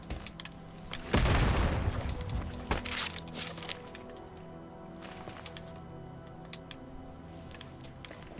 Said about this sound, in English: I'll be back to throw another grenade at you